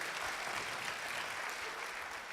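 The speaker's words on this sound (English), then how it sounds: "give them a round of applause, that's wonderful." Steady applause from a crowd at a charity dance competition, a continuous wash of clapping at moderate distance, fairly quiet and even throughout with no voices on top.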